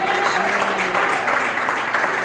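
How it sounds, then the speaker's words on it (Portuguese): A church congregation claps together in a steady, dense burst of applause that fills the space, with no voices rising above it. "Receba o nosso pastor com palmas bem alegres para Jesus"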